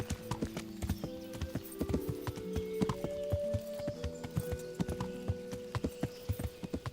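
Horse hooves clip-clopping in Kingdom Come Deliverance, a steady, close rhythm of hoof strikes with a brief tonal whinny-like sound midway and background game music.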